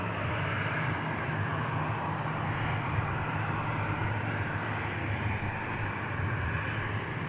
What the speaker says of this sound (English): That looks like a Sun Country charter flight headed our way on the taxiway.